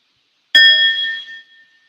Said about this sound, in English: And I also have a bell